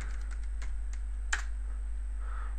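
Computer keyboard keys tapped in a quick short run of clicks, then one sharper keystroke and a pause, close over a steady low electrical hum.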